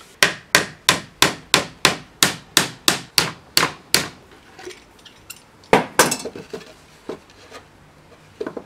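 Rapid, evenly spaced hammer blows, about a dozen sharp strikes nailing wood while building a bird feeder, followed by quieter scattered taps and knocks.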